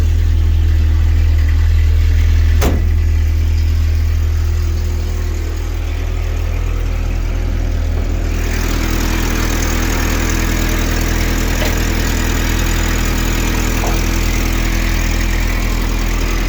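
A 1975 Toyota SR5 pickup with a 20R engine and a Honda Pilot rear turn-down muffler idles steadily and close up, a continuous low rumble with a brief sharp knock early on and no talking.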